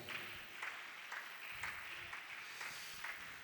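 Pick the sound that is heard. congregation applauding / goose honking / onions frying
congregation applauding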